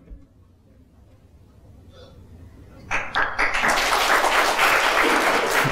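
An audience at a motivational speech breaks into applause after a quiet, murmuring pause, with clapping that starts suddenly and rises to a dense, sustained roar.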